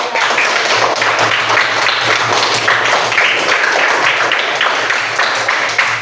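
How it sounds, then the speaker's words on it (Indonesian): Classroom of schoolchildren applauding together during a religious education lesson, steady dense clapping that holds for the whole stretch with no voices rising above it. "tepuk tangan untuk kita semua"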